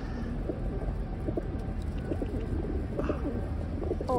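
Pigeons coo repeatedly in low, throaty, rolling calls close by, over a steady background rumble.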